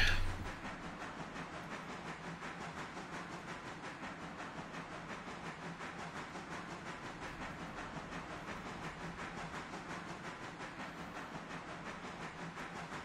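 Train rolling along in the Railroader video game, a steady mid-level rumble with a faint, regular clickety-clack rhythm and hiss running continuously throughout.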